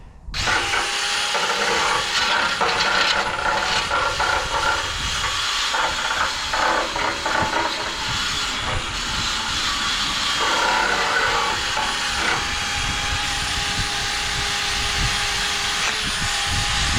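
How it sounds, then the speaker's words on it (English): A power-driven wire brush scours the wooden boards of a produce stand trailer, a loud continuous abrasive whirr and hiss with rattling contact noise that dips and resumes as the brush shifts across the surface. "we'll start wire brushing and cleaning everything up"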